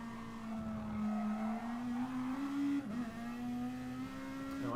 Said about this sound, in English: The car's too loud compared to my voice or not?